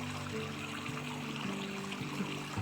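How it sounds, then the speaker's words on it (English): Soft running water of a creek trickling and babbling steadily nearby, gentle continuous flow with faint low tones drifting underneath, no talking. "I like to sit by the creek also. It's more soft running water"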